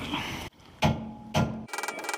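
Hammer blows drive an old socket onto a locking wheel nut on a Mk2 Ford Escort, two heavy metallic bangs close up, then a quick rattling flurry of lighter taps.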